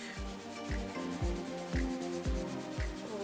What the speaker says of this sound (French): je vais limer mes ongles jusqu'à ce que ça donne quelque chose